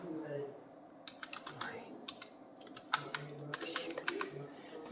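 Typing on a computer keyboard during a computer lab practical: a run of quick, light key clicks in irregular bursts, fairly close, with a voice speaking over the tapping.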